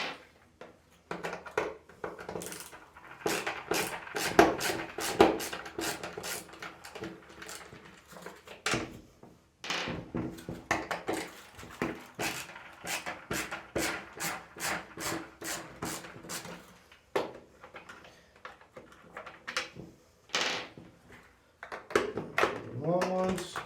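Screws being backed out of the shroud on a Pentair Kreepy Krauly Great White pool cleaner at a flat work surface, heard as close, repeated rubbing, scraping and clicking of the screwdriver and plastic across the stretch, with brief pauses between screws.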